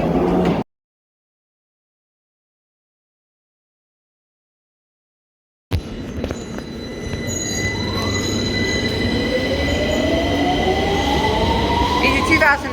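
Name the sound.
London Underground Victoria line 2009 train at Victoria station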